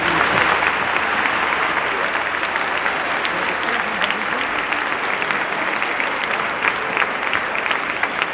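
A congregation applauds during a children's Mass in Valencia: a loud, dense, continuous wash of clapping filling the church, sustained for several seconds with a few voices mixed in.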